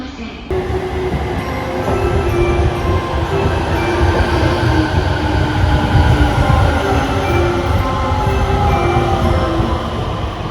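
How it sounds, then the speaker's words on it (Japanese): Japanese ten-car local train bound for Numazu, on a Kawasaki to Nagoya run, heard from inside as a loud, steady rumble and roar of wheels and motors that carries on unbroken, with no voices. "5:39 a.m. local train bound for 沼津。"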